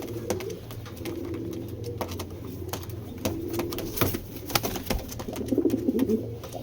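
Giribaz pigeons coo softly and repeatedly at close range, with a low rolling murmur running throughout and a louder burst of cooing near the end, mixed with light clicks and fluttering.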